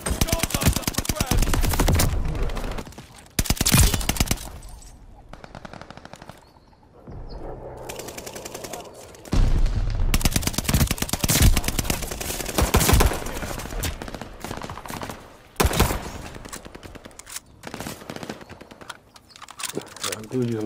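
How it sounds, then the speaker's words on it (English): Bursts of gunfire from a burst-fire gun in Call of Duty Vanguard crackle loudly in quick clustered volleys, broken by short quiet gaps, with other shots and game noise mixed throughout. "Dude using the burst gun."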